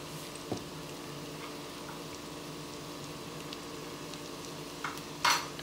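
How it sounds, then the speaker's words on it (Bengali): Mixed vegetable bhaji being stirred in a pan, with soft steady sizzling and occasional scrapes and clinks of a spoon against the metal, the loudest knock coming near the end. "নেড়ে চেড়ে নিচ্ছি ভালো করে।"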